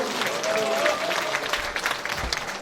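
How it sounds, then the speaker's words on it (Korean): Sustained applause from a crowd at a Democratic Party members' education event in Incheon, as a speaker is welcomed, steady dense clapping throughout, fairly close, with a few voices mixed in. "큰 박수로 맞아주시고."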